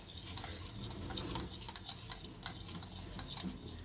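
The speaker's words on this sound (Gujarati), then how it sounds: "આ બધાને આપણે સારી રીતનું મિક્સ કરી લેવાનું છે" Curd mixed with salt is stirred in a bowl while preparing dahi bread: a steady, close scraping swirl with light clinks of the spoon against the bowl, and no talking.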